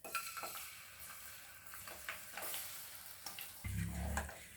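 Jaggery goes into hot ghee in a pan for gud paag: scattered metallic clinks and scrapes with short sizzling bursts, then a louder low bubbling rumble near the end.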